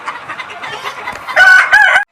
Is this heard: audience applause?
no